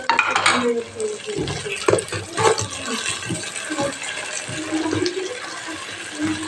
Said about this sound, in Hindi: 4 पीस टमाटर के ये डाल देंगे